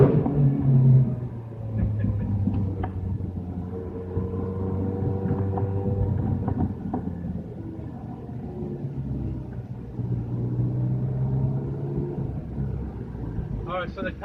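A Ferrari 360 Challenge Stradale's engine drones steadily from inside the cabin, a low, even rumble with layered harmonic tones that swell and ease slightly while cruising.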